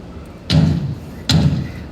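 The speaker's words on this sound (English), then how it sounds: "Whence is that knocking?" Two heavy knocks strike a door during an outdoor stage performance of Macbeth, spaced under a second apart, each a loud dull thud ringing briefly.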